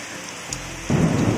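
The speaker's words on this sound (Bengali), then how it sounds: "এখন কিন্তু অনেক জোরে বৃষ্টি হচ্ছে" Heavy rain pours at the Double Decker Root Bridge near Nongriat village in Cherrapunji, Meghalaya, a steady hiss that swells under a sudden deep roll of thunder about a second in, with no voices.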